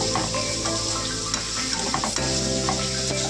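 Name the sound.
sautéing masala with turmeric in oil for mackerel curry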